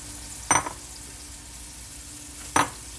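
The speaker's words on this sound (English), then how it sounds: "these are going to have to fry. This takes about 15 minutes to cook these up." Turkey bacon cheeseburger patties sizzle quietly in a pan, with two brief scrapes or clanks of a spatula about two seconds apart, heard up close.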